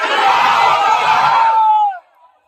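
At a public political rally in Govandi Mankhurd, Mumbai, a large crowd shouts the Nara-e-Takbir slogan in unison, a loud, close, sustained roar lasting about two seconds before it breaks off abruptly.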